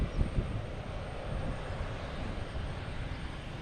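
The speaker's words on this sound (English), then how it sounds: "Like this next one coming in from Rome, an A330 Delta, flight 113 from Rome." A Delta Airbus A330 inbound from Rome lands at Boston Logan, a steady broadband engine roar holding at moderate loudness throughout with no talking.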